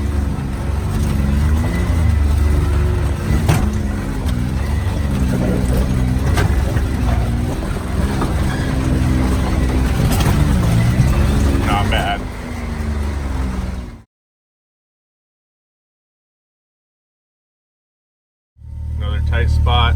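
A truck with a diff grinds along a rough desert wash during course marking for the San Felipe 350, its engine droning loud and steady with rattles before cutting to silence, then roaring back near the end.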